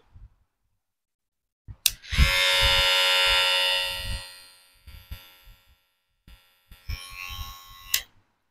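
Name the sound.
electric hair clipper running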